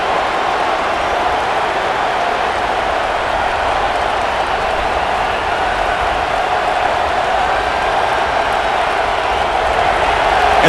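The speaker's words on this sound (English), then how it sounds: "this home crowd is fired up and ready to make a difference today" A home stadium crowd roars in NCAA College Football 26 as Oregon and Iowa play a goal-line stand. The cheering is a loud, unbroken wash of noise that holds steady throughout, with no voices standing out.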